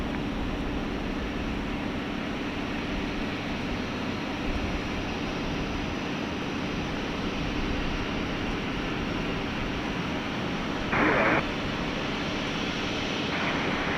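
A plane comes in to land at Sydney Airport, a loud steady engine roar holding for the whole stretch, with a short brighter burst near the end and no talking.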